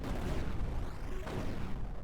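Booming explosion sound effects from the video game GB Rober, loud and dense, with rumbling blasts layered over one another and a sharp burst near the middle.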